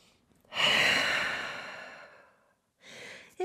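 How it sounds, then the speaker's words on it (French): A long, deep exhale during a yoga downward dog pose in a vinyasa flow, a single close breath that fades out, followed by a shorter soft breath. "Grande respiration en chien tête en bas."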